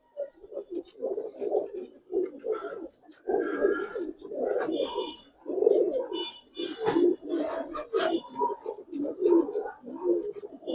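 Giribaz colouring pigeons, including a hen, coo repeatedly in low rolling bursts, close by and steady throughout, with a few faint higher chirps mixed in.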